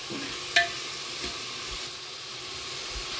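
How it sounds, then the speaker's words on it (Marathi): Carrot and onion fry in a pan for dill pulao, giving a steady close sizzle with a brief clink of a stirring utensil near the start. "सो कांद्या वांगडा न्ही हेका बरें 1 मिनटांनी अशें फ्राय करून घेयात"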